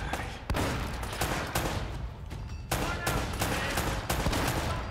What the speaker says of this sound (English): Just shooting blindly